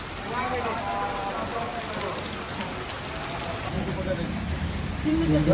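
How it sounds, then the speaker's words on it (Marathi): Heavy rain pours down in a constant dense hiss on pilgrims walking in the Pandharpur wari procession, with people talking over it. "पाऊस काय थांबायचं नाव घेत नाही"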